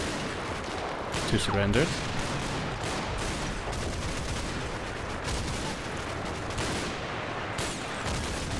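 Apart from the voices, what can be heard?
gunfire in the video game Combat Mission: Battle for Normandy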